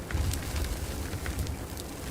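Dirt pours down a hillside next to running mining machinery in the video game Out of Ore, a continuous rushing, crackling rumble with no clear breaks, steady and fairly close.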